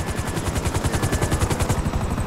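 FIB helicopters in Grand Theft Auto 5 thump with a steady rotor chop, loud and close, mixed with rattling gunfire in the background.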